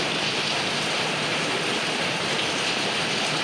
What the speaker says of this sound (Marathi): मित्रांनो हे बघा पाऊस आहे बघा